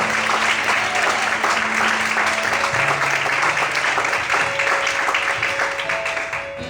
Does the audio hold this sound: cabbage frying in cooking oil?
no